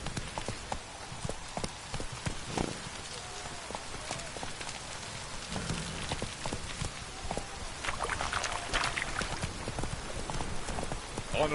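Horse hooves clip-clop steadily across ground in The Witcher 3, a continuous rhythmic trot mixed with a rain-like patter and scattered sharp clicks, fairly loud throughout.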